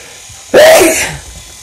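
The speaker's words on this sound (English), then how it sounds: "Uh-oh, a sneeze coming." A single sharp, close sneeze from a dog just after a bath, a short burst breaking a quiet room.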